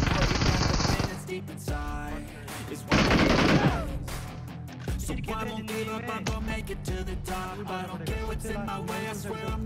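Bursts of automatic gunfire in the battle royale game BGMI, loud rapid volleys with a dense burst near the start and another around three seconds, over continuous game sound and music.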